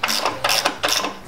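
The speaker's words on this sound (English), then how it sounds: "With so many Imperial bolts to do up, one of us had to hit the spanner." A ratchet spanner clicks in three quick rapid bursts while doing up imperial bolts on an old Ferguson tractor engine, close and distinct with brief gaps between strokes.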